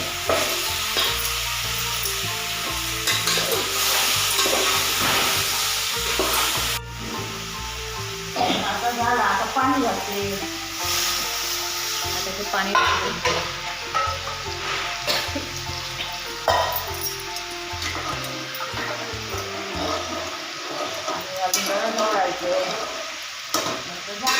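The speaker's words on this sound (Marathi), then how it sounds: "आईने फोडणीला दिलं आहे" Loud, continuous sizzling of spices frying in hot oil as tempering for dry chicken, with occasional stirring clatter and brief bursts of crackle.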